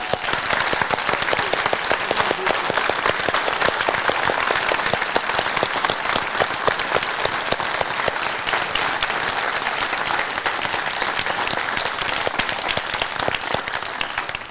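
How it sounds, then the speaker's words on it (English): A large audience gives students a big round of applause, dense sustained clapping that holds loud and even throughout, with no voices over it. "let's give all of our students a big round of applause"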